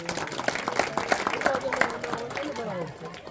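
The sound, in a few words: applause welcoming guests at a school celebration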